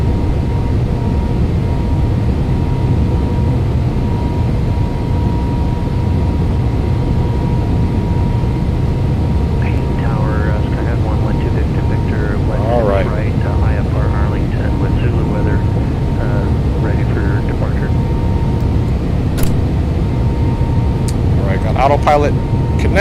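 A simulated Boeing 777-200 jet in X-Plane 11 at Seattle-Tacoma runway 16 right, a loud steady low engine roar throughout, with someone talking and faint radio chatter over it partway through.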